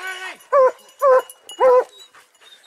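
Three loud, close yelping barks with whiny, whimpering tails from an excited hunting dog during a spring brown bear hunt, spaced about half a second apart with softer whines between.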